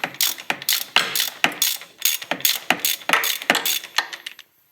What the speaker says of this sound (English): Easy peasy, 7/8 inch socket. Even one-handed can do it.